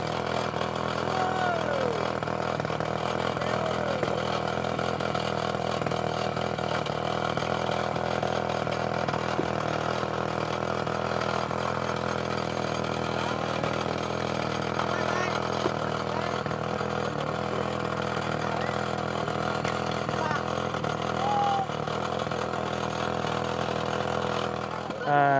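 An engine-powered rock drilling machine working at a roadside stone embankment site, a steady loud droning engine running continuously at close range with a constant mechanical hum and no pauses.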